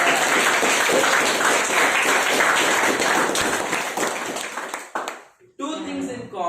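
Loud, dense applause from an audience at a speakers' meet fills the room, mixed with heavy speech-like noise and chatter, before dropping off abruptly near the end as a voice begins talking.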